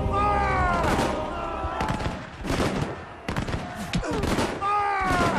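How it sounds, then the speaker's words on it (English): Musket shots exchanged in a Napoleonic-era battle as troops approach a British line, with scattered loud reports through a dense mix of tonal background sound. "As they approach the British line, the first shots are exchanged."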